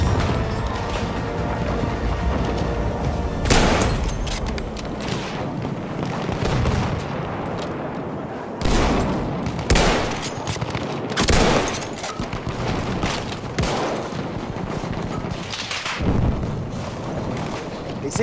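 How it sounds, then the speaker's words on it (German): Machine gun fire rattles through a Battlefield 1 battle, with loud, dense bursts of gunshots and heavy booms crashing repeatedly over a continuous roar of combat, and almost no talk. "Feindliches Maschinengewehr! Ein Maschinengewehr!"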